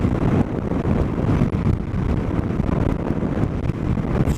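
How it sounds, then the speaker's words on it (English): Suzuki DL-800 V-Strom motorcycle coasting in sixth gear on a test ride, heard mostly as loud continuous wind buffeting over the microphone with a dull engine and road rumble beneath, no talking. "Sixth gear, just coasting along."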